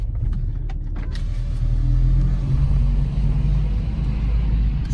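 A car launches hard with the Sport Plus mode engaged: a steady, loud low engine roar builds and holds as it accelerates, heard from inside the cabin with no talking.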